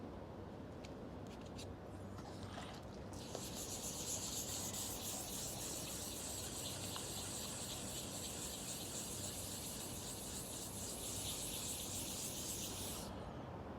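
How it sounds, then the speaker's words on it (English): Wet sanding car paint by hand with sandpaper, a steady close hiss of abrasive rubbing that runs continuously for about ten seconds after a few brief scrapes, with no one speaking. "We wet sand on paint, on clear, and also on primers."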